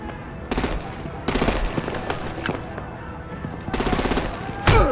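Bursts of automatic gunfire in the Batman The Enemy Within video game, with several rapid volleys separated by short gaps and a sharp final shot, loud and close.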